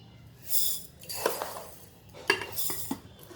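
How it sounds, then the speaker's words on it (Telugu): Parboiled rice poured by the glassful into a kitchen vessel for dosa batter, heard as a few rushing, rattling pours with light clinks of grain and utensils against the container, close and moderately quiet. "ఉప్పుడు బియ్యము 2 గ్లాసులు వేస్తా"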